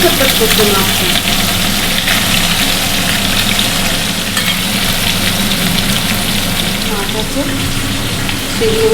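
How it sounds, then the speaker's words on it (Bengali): Rohu fish frying in hot oil, a loud, continuous bubbling sizzle with a rumbling undertone, with a voice talking intermittently over it. "মাছ তো এত ফুটছে বন্ধুরা আমার মাছগুলো সব ভাজা হয়ে গেছে"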